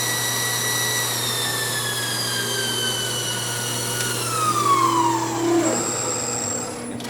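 Motor of a Victor 9x49 EVS milling machine running steadily with a whining tone that drops in pitch as it slows, a constant low hum underneath, close and fairly loud.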